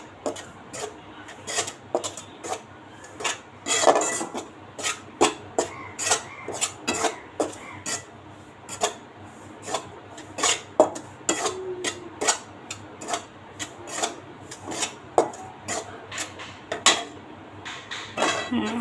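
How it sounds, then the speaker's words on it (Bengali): Wheat flour (atta) dry-roasting on low heat in a pan, heard as a string of sharp spoon-on-pan clinks and scrapes in an uneven rhythm, close and distinct against a quiet background. "আমি দেখেন একদম লো আছে, আটাটা ভাজতেছি"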